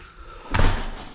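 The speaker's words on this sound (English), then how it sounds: "So let me close the door here." A door swings shut with a single solid slam about halfway through, a loud close thud that follows a quiet room tone.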